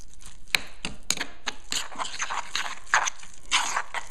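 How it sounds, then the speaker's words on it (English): Rosemary walnut pesto is stirred together with olive oil and handfuls of Parmesan, giving a series of soft, wet scraping and clicking strokes at close range, with no talking. "start mixing in my Parmesan cheese"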